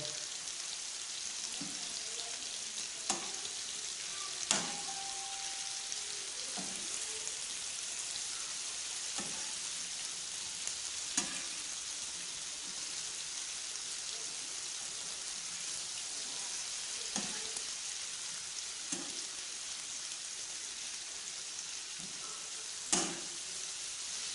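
Green chillies and beef liver frying on a flat iron tawa give a steady, soft sizzle throughout, broken by a few sharp clicks and taps of a spatula at irregular intervals.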